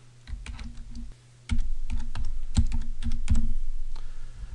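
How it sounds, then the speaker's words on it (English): Fingers type an email address and password on a computer keyboard, a quick run of clicky keystrokes in uneven bursts, close and fairly loud, with no talking. "we type in the email address and password"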